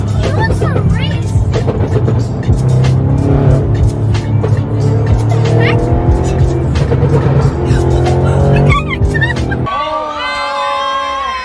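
Car speeding off with squealing tires and a rising engine roar, loud and close, while people talk excitedly over it before the sound cuts to a quieter scene.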